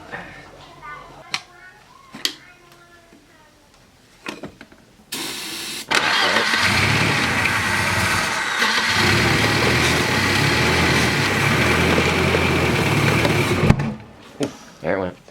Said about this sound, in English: we'll put some little bit of gas down in there and see if we can get the thing to start and maybe hear this thing run for a little bit